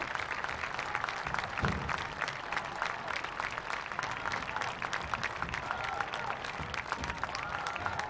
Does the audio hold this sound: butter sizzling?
no